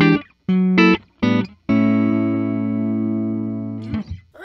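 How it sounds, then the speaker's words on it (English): Wine red 2022 Gibson Custom Shop '76 Les Paul Deluxe electric guitar on its neck mini humbucker pickup, playing a few short chord stabs followed by a long, sustained ringing chord, warm and close. "That was just the neck pickup. That's so nice and juicy."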